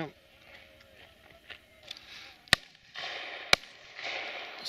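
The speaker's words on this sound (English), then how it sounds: "Second shot." Two sharp shotgun reports ring out at a pheasant and partridge shoot, spaced about a second apart and fairly close, with outdoor chatter and movement in the background between them.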